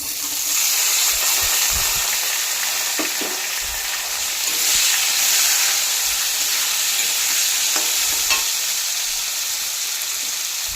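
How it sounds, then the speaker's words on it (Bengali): Potatoes fry in hot oil with onion and tomato added for a fish curry, giving a loud, steady hiss and crackle with occasional stirring knocks underneath. "আলুগুলোকে একটু ভেজে তার মধ্যে আমি দিয়ে দেবো পেঁয়াজ আর টমেটো"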